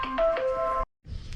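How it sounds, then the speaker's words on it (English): A phone rings during an HVAC evaporator coil install: a short electronic ringtone of steady, clear tones with a few stepped pitch changes, then it cuts off abruptly and a brief room rustle follows. "And my phone's ringing."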